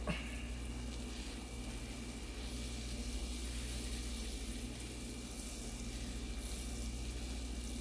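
Butter melting and sizzling in a pan taken off the heat, a soft steady frying hiss that holds evenly throughout, quiet and close with no talk.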